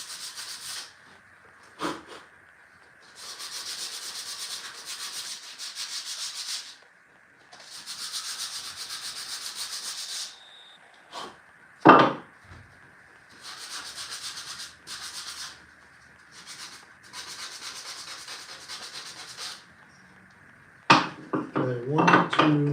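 Hand sanding a carved wooden gnome house roof, with repeated bursts of rough, scratchy rubbing separated by short pauses, close and fairly loud, with a few knocks and clatters of tools near the end.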